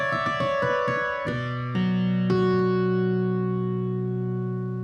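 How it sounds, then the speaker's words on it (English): Sustained electric keyboard chords ringing out with reverb and echoing delay, new chords struck a few times, the tails lingering and fading smoothly. "This one's nice to add a bit of reverb, and in all honesty, I like adding in a bit of delay."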